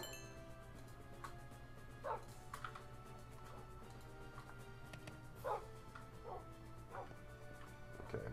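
A pack of dogs barks and yips in the Steam Engineering 2 modpack game, with faint, scattered barks spaced a few seconds apart over a steady low hum.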